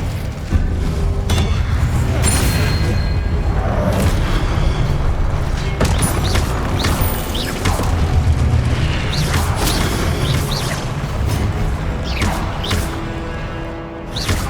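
Spell-casting blasts and explosions from the video game Hogwarts Legacy, a loud, continuous barrage of booms and crashes layered with game effects and music, with no speech.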